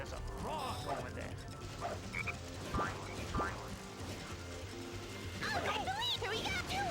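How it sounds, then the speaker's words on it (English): A frog croaks in the video game Sonic Heroes, a few short ribbits amid game effects and music, with voice lines and a player talking over it. "Hey, there's a frog over there."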